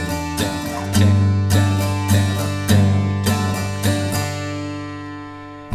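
Guitar strums a verse pattern in a down-down-up-down-up rhythm, bright ringing chords with regular sharp attacks, close and alone without any voice.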